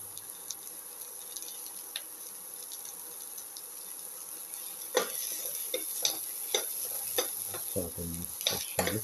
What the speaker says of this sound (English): Saute the shallots and the onions with the rest of the mixture.